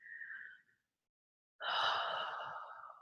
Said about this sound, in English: So just take a few deep breaths